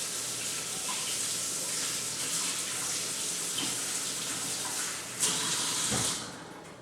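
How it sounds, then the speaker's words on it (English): Water runs from a kitchen sink tap in a continuous rushing stream while hands are washed beneath it, with a brief splashy change near the end as the flow shifts. "let me step over to the sink real quick and wash my hands."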